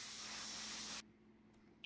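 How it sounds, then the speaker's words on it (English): A loud, steady hiss of air spraying dust off an aircraft part runs for about a second, then cuts off abruptly, leaving quiet room tone with a couple of faint clicks. "just spraying off all the dust from that"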